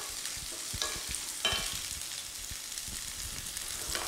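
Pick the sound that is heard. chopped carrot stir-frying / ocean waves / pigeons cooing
chopped carrot stir-frying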